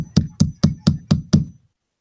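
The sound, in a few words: hammering something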